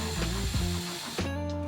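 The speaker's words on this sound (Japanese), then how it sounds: "またドリルの出番。" A power drill whirs in short bursts, its motor pitch rising and falling as it drives screws, close and fairly loud with brief pauses between runs.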